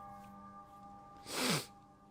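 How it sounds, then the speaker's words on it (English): A single sneeze bursts out near the end, loud and close, with a short descending tail, after a stretch of quiet room hum. "That's what happens when you sneeze."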